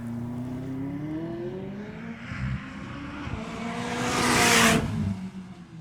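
A sports car engine revs on a race circuit, climbing in pitch and swelling to a loud, roaring peak with a rushing burst, then easing off slightly.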